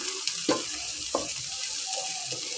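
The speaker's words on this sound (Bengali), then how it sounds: "পেঁয়াজটা আমি একটু হালকা ভেজে নেব" Onions fry lightly in a pan under a soft, steady sizzle, with a couple of distinct scraping stirs near the start and middle, close and moderately quiet, no talking.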